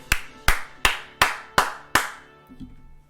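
Six sharp claps of an esports crowd applauding Cyber Legacy after a match win, evenly spaced and fairly close, followed by a faint thump.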